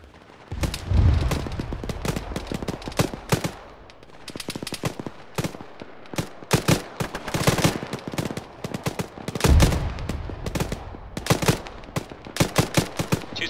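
Automatic gunfire in an Arma military game, repeated bursts of loud rapid shots with short gaps, some heavier booming reports, continuing steadily without talk.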